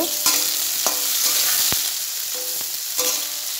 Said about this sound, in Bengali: একটু লাল লাল করে ঝিঙেটা ভেজে নিয়ে তারপরে আলুটা দিয়ে দেবো।